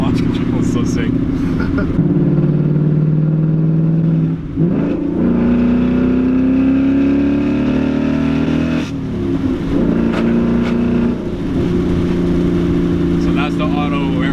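A 2019 Ford Mustang GT launches hard with launch control, its V8 revving and climbing through rising pitch sweeps with brief gaps at gear changes, loud and close, while people talk excitedly over it.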